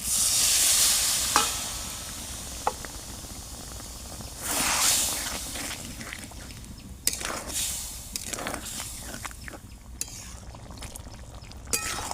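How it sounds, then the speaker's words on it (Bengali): New potatoes frying in a pan for a Bengali niramish aloo dum, with a splash of water added: loud sizzling hiss bursts in waves alongside scraping stirring and clinks, close up with no talking. "এবারে আমি এতে দিয়ে দেবো সামান্য জল।"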